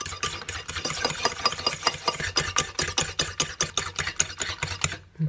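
Eggs being whisked into mashed banana batter for three-ingredient pancakes, a close, steady rhythm of fast scraping strokes against the bowl with brief pauses, heard alone without talking.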